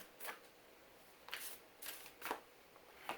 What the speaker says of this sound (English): I'm going to shuffle from the Natural Enchantments Oracle deck